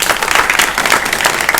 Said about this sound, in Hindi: जोरदार तालियां आप बजाइए।